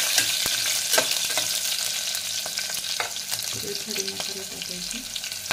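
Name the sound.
green chillies frying in a pan for masala rice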